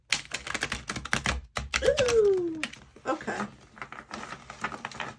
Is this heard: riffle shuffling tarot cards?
yes